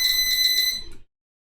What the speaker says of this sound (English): it just beeped at me that it's done